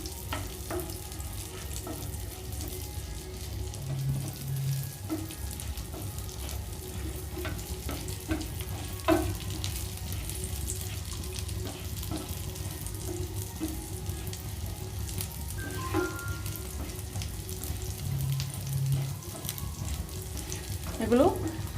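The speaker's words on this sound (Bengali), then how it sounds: "ঘিটা গরম হয়ে গেছে। এবার এর মধ্যে কাজু বাদাম আর আমন্ড কুচিগুলো দিয়ে দেব।" Cashews and chopped almonds fry in hot ghee in a pan, giving a steady, close sizzle with occasional soft clinks of stirring throughout.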